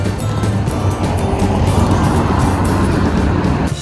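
Cars passing on a quiet Friday-morning road in Kuwait: a steady nearby rush of traffic noise with tyre roar, loud and continuous, no talk.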